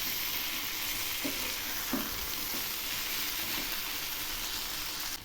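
Mourola fish chachchari fries in a sweetened, oily masala in a pan, crackling in a steady sizzle while a utensil stirs it with a few soft scrapes near the start.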